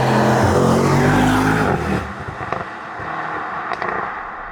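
EU-spec Mercedes-AMG SL 63 exhaust roaring loudly under hard revs, then dropping off sharply into a quieter burble broken by crackles and pops.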